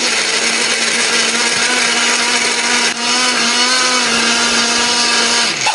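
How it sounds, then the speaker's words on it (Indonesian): An electric blender grinds shallots, candlenut, turmeric, ginger and garlic into a spice paste with a little water or oil, a loud steady motor whine running throughout with one brief dip in pitch midway. "Bumbu ini akan kita haluskan menggunakan blender, beri sedikit air atau minyak ya supaya lebih gampang untuk menghaluskannya."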